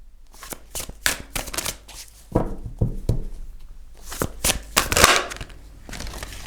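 Tarot cards are shuffled and drawn by hand, giving bursts of riffling and sliding flicks, close and fairly loud, in irregular clusters with short pauses and no talking.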